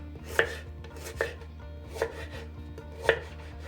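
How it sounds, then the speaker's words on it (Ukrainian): A knife chopping celery root into pieces on a cutting board, four crisp, evenly spaced chops over a low, steady background hum. "я салеру розріжу на три частини і буду різати такими кусочками"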